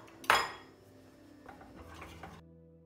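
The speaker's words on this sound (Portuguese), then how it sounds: "Vamos continuar a mexer." A spoon scrapes and knocks around a pot of oat porridge with cinnamon, one sharp metallic clank near the start followed by softer, close scraping stirs before falling silent.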